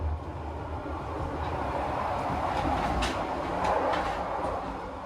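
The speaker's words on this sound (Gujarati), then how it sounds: "તો મિત્રો ટ્રેન જબરજસ્ત ચાલી રહી છે" A long-distance train in Vietnam runs at around 69 km/h with a loud, continuous rumble and rattle heard from inside the carriage. Faint clacks and knocks come and go within the steady roar.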